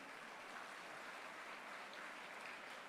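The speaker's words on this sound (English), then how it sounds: "Mr. Sudhakar, Mr. Yelumalai, let's give you a big round of applause." Sustained applause from a large audience at a college day ceremony, steady dense clapping filling the full three seconds with no pauses and no voices standing out.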